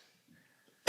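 After near silence, a single sudden cough breaks out loud and close right at the end.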